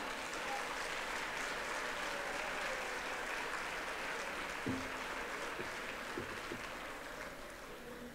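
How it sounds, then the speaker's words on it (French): Audience at a gala charity ball applauding the organisers, a steady wash of clapping heard from some distance, fairly faint and continuous with a few stray voices underneath. "Je pense qu'on peut applaudir les organisateurs."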